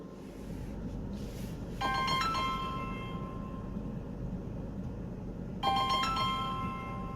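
Incoming call alert on a phone, two bright electronic ringtone chimes a few seconds apart over a steady low background hum, moderately loud and close.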